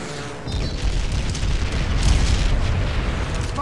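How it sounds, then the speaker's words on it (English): A frag grenade explodes inside a ground-floor building in Call of Duty: World at War, a loud low boom that swells in and then rumbles on for several seconds. "Toss a frag grenade through it."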